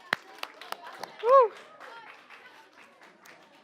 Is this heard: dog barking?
no